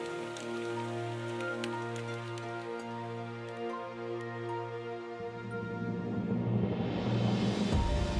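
Autumn rain falling at a temple, a soft steady patter over a low sustained hum that grows into a louder wash of rain toward the end, with no talk.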